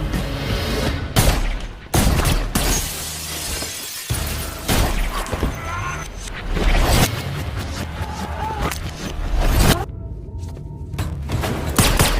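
Rapid bursts of close-range gunfire and shattering impacts fill the whole stretch of a John Wick film fight scene, loud and dense, with booming hits and breaking glass mixed in.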